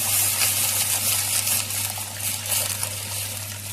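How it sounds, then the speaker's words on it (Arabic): Hot water poured into a cooking pot of stuffed vegetables (mahshi), a soft, continuous gushing trickle that stays fairly quiet and steady, with no one talking. "الميه بتاعتها نحط لها ميه سخنه طبعا عشان تغلي على طول."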